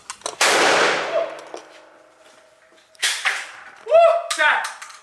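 Shotgun fired at an indoor shooting range in Atlanta: a loud blast with a long ringing decay, followed by further sharp reports with echo, while voices talk and exclaim over them.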